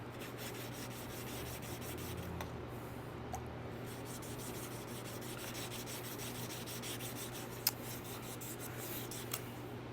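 Steady, rhythmic hand rubbing of sandpaper on a wooden knife handle continues throughout, quiet and close, with a couple of faint clicks.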